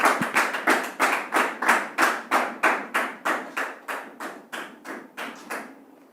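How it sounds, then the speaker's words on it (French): Studio audience on a French talk show clapping in unison to welcome a guest, a steady rhythmic run of about twenty loud, even claps that gradually fades and stops. "Dame Dominique, sous vos applaudissements."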